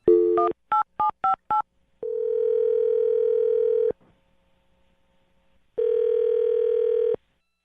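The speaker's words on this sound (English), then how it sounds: "I'll dial her phone number right now." A steady telephone dial tone sounds, then a quick run of five touch-tone beeps, followed by a long tone, a pause and another stretch of tone, all fairly loud and clear.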